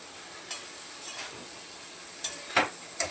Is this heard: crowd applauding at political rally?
no